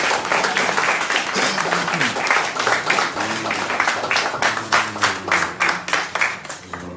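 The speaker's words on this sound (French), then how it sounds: "On applaudit, mesdames et messieurs, Jean-Claude Romulus." Audience at a Haitian consulate tribute event in Boston applauding Jean-Claude Romulus, loud sustained crowd clapping that gradually breaks into a more rhythmic, unison beat, with a voice faintly under it.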